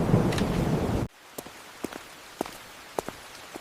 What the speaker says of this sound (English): The storm came too fast.